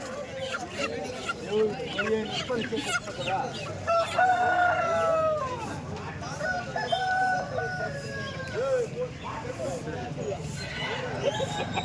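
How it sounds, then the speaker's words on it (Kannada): Country chickens of an Andhra breed, including a rooster, crow and cluck at a poultry seller's, with repeated crowing calls standing out among clucking birds. People talk through much of it. "ಇಲ್ಲೊಂದು ಹುಂಜ ಇದೆ"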